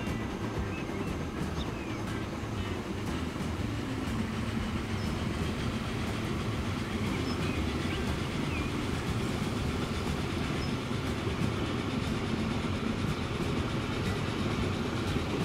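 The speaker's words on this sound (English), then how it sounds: "Let's ride the train back." Steady rumble of a simulated train running along rails in the Transport Fever transport game, hauling stone in an American setting, continuous and fairly loud throughout with no talking.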